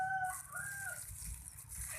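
Roosters of a Darahan Black Dragon and Shadow fighting line squabble nearby, with a short strained crowing call and clucks over scuffling, fairly faint and with no talk.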